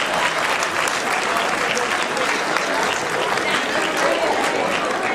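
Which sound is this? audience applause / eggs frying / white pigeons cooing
audience applause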